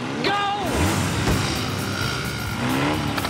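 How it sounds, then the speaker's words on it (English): Several race car engines start and roar together under steady background noise, with pitch rising as a revving engine sweeps up and down. "start your engine."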